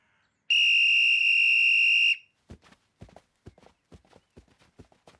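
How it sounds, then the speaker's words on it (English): A referee on a soccer field blows one long, loud, shrill whistle blast lasting over a second, followed by a run of quick, light footsteps or clip-clop taps. "you're pretty good with a whistle"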